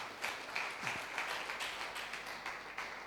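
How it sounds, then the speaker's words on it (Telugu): A church congregation breaks into steady, sustained applause that fills the room evenly, many hands clapping at once over a faint background murmur. "గట్టి చప్పట్లు కొట్టాలి"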